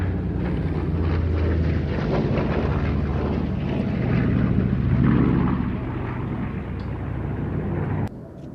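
Piston aircraft engines of a B-25 and a DC-6, the DC-6 with Pratt & Whitney radials, in a loud, steady low droning roar that swells slightly midway and cuts off abruptly near the end.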